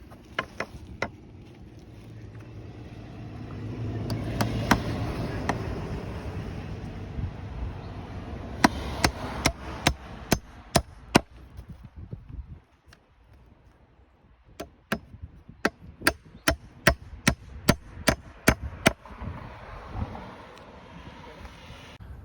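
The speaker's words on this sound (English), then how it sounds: "he's just nailing them down in there" A hammer drives nails through 2x4 boards into pressure-treated wood during outdoor wall framing. Sharp, evenly spaced strikes come in two bursts over a windy background.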